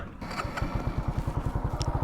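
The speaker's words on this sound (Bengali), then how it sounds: "বাইকে নতুন রিং পিস্টন লাগানোর পর একটানা পনেরো কিলোমিটার রাইড করার পর ইঞ্জিনের সাউন্ডের এই অবস্থা শুনেন" Motorcycle engine with newly fitted piston rings idling in neutral after a fifteen-kilometre ride, a steady, close, even low thump that runs throughout.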